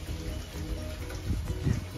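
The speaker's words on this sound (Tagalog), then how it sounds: "So, ulan sa labas." Rain falls outside a house during a rainy day, a soft, steady patter of drops heard faintly and continuously with a few slightly louder splashes near the end.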